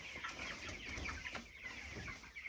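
Broiler chickens on a South African poultry farm cluck in soft, scattered calls over a steady background murmur of the flock.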